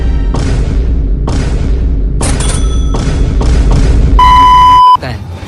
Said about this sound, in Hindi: ये असली फायरवर्क्स है, ना कि प्रॉप्स।